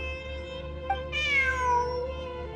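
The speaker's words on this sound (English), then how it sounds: "Look, a cat." A cat in a video game gives one clear meow, a rising then falling cry near and fairly loud, over a low steady hum and no talk.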